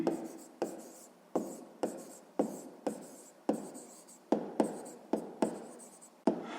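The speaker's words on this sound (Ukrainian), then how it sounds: "Записуємо прямо." Pen writing on paper during a sixth-grade maths exercise: a steady series of short, close scratching strokes, each starting with a sharp onset and fading quickly, in a quiet setting without talk.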